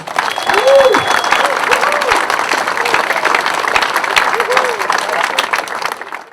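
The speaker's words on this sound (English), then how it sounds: "So how about a quick round of applause for that?" A crowd at the grand opening of a new school athletic facility gives a steady round of applause, with voices calling out and cheering over the clapping throughout.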